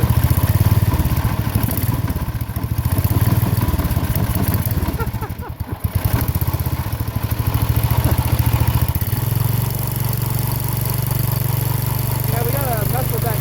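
A 1970 Sears Suburban tractor's small engine runs steadily after a spark repair, a close, loud, even chug with one brief dip in the middle and people talking faintly over it.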